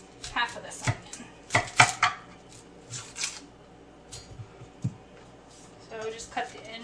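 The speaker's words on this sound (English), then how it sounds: "we're going to cut up half of this onion" A knife chops through a large onion on a cutting board in a kitchen, a handful of crisp, close thuds in small uneven clusters with quiet gaps between them.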